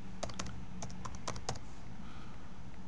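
Typing an FTP address on a computer keyboard, with a handful of crisp, close key clicks in an irregular run over the first second and a half, then quiet room tone.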